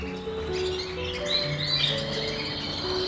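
Gloster canaries, including a fine-feathered crested female, chirping and twittering continuously in a crowded cage, with overlapping high trills and whistles close by.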